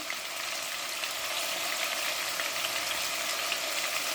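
Spices frying with turnip and meat (shaljam gosht) in a pan, a steady close hiss of sizzling oil running unbroken, no talking.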